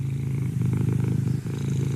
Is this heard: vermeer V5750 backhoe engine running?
no